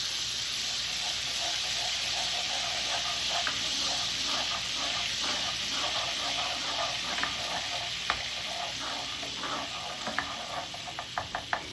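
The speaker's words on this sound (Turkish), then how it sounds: "Tenceremize 4 yemek kaşığı tereyağı ilave ettikten sonra eriyene kadar bekleyelim." Four tablespoons of butter sizzling and crackling steadily in a hot pot, a constant frying hiss with scattered small pops growing more frequent toward the end.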